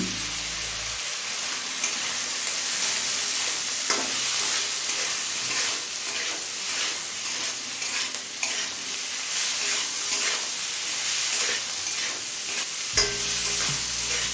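Pumpkin greens with salt and turmeric fry in a pan, a steady close sizzle with scraping stir strokes running throughout, starting and stopping abruptly at the edges.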